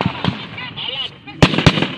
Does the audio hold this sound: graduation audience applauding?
no